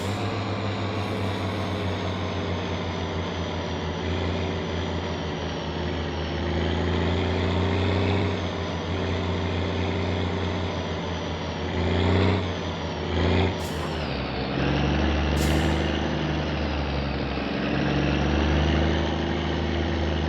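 Engine of the sewage truck in the game My Summer Car driving along, a loud steady diesel drone held around mid revs with brief bursts and shifts in pitch as it changes gear.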